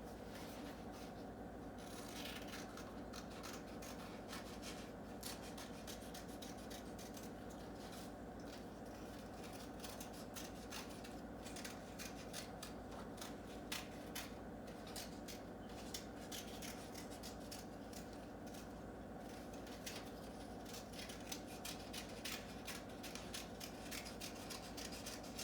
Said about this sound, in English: After you trace around your hand, you're going to go ahead and cut that shape out.